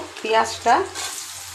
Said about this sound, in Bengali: দেখো রসুনটা আগে দিয়ে দিলাম, এবার নাড়াচাড়া করে